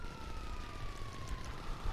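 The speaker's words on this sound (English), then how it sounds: "the cops got on me, the police car came out of nowhere" A police car siren in Grand Theft Auto V wails steadily in a slow, gliding tone over a rumbling low background, sounding somewhat distant and thin.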